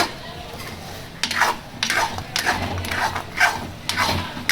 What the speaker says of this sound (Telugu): ఫ్రై చేసే వరకు దగ్గర అయ్యే వరకు ఫ్రై చేద్దాం.